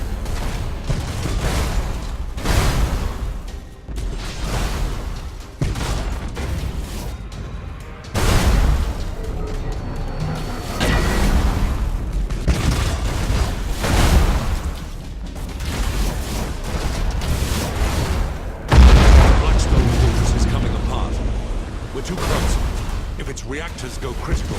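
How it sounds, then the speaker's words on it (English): Starship main batteries open fire in the Battlefleet Gothic Armada 2 video game, a series of heavy booming blasts and rumbling bursts repeating through the scene, mixed with dramatic music and spoken dialogue. "Main batteries, open fire!"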